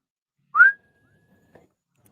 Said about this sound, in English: Oh, there's the whistle.